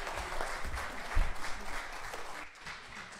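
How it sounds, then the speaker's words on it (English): A church congregation at an Easter Sunday cantata service gives the choir a round of applause, modest and fairly quiet clapping that fades out after a few seconds. "Can I get a round of applause for the choir?"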